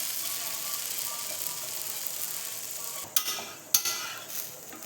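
Curry leaf dosa frying on a hot pan, a steady soft sizzle throughout, then two sharp scraping clatters of a spatula near the end.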